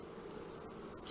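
A rose chafer beetle buzzes in a steady, faint drone throughout, close by in a quiet outdoor garden, swelling slightly at the very end.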